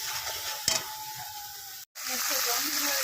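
A spice mixture sizzles in a pan before fish heads go in for mung dal, a soft continuous frying hiss with a sharp clink of a utensil and brief stirring.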